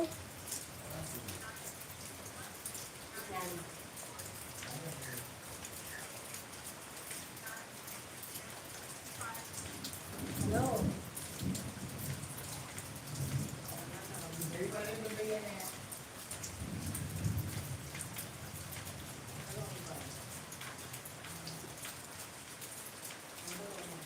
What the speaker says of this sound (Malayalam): മഴ തോനെ വരുന്നല്ലേ